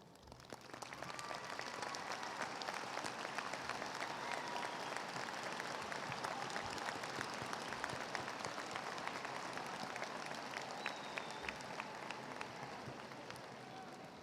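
Sustained applause from a large audience at a university commencement ceremony, steady and dense clapping that continues for the full stretch without pause.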